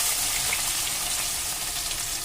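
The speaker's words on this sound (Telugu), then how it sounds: "గోల్డెన్ బ్రౌన్ కలర్ వచ్చే వరకు ఆనియన్స్ని ఫ్రై చేసుకుందాం" Sliced onions frying in a generous amount of hot oil for fish curry, a steady close crackling sizzle that runs unbroken from start to end with no voices.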